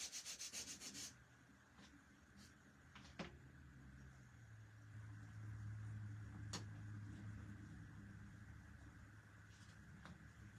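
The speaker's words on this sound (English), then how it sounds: "Some of these pieces we do have to give a light sanding to because we just cut them" Light hand sanding of freshly cut wood pieces, a steady soft rubbing scrape that continues through most of the stretch at a close, quiet level with a few brief knocks.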